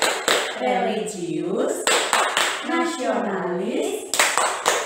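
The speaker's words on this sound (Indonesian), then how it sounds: "kita tepuk BPK bersama-sama ya" A class of children claps a rhythmic PPK pattern together, with sharp sets of group claps between chanted words.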